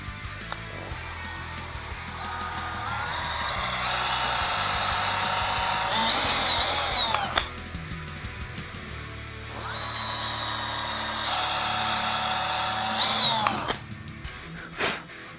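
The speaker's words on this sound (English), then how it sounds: "we do want to pre-drill these holes" A power drill pre-drilling screw holes in a bass guitar neck whirs in two long bursts, revving up and winding down, with clicks and handling noise between them; no talking.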